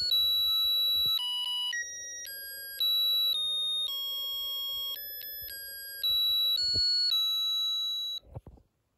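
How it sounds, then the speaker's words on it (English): A Snap Circuits music IC plays a simple electronic melody through a small speaker, bright beeping tones stepping between pitches over a faint hiss, ending with a couple of clicks, no talk. "And then I can hear the music that is playing."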